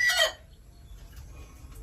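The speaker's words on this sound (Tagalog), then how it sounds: "Ito yung inahin mga farmers." A brooding hen gives one brief, raspy cluck up close, followed by near silence with a low background hum.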